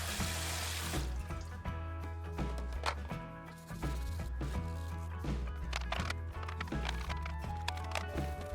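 Tap water running while a washing machine detergent tray is scrubbed clean at a sink, a continuous close splashing stream broken by clattering knocks and scrapes of the plastic tray, with no talk.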